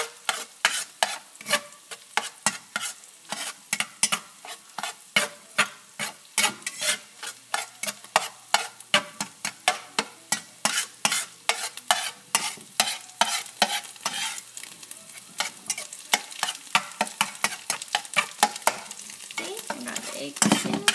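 An egg fries in a hot pan for fried rice while a flat spatula scrapes and stirs it, giving quick repeated clacks over a soft sizzle.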